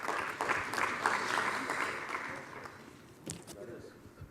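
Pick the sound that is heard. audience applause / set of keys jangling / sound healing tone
audience applause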